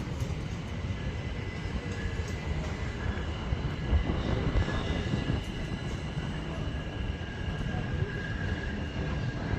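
A Class 701 electric train approaches and passes at Clapham Junction with a steady broad rumble of wheels on rails and a faint electric whine, fairly loud and continuous, while someone talks over it.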